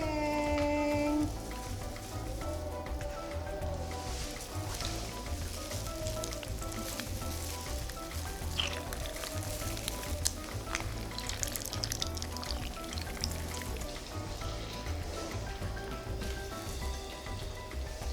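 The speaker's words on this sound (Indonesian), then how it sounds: "Oke, saatnya menggoreng." Milkfish otak-otak fry in hot oil with a dense, steady sizzle and crackle that holds evenly throughout, close and fairly loud with no talk over it.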